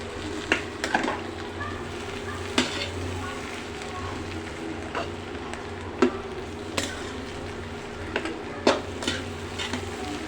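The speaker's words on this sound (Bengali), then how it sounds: "ধনিয়া পাতা দিয়ে ভালো করে নাড়া দিব আমি" Bottle gourd and dried fish curry with coriander leaves being stirred in a pot, giving sparse sharp knocks and scrapes of a spoon against metal over a low cooking hiss, with a person talking throughout.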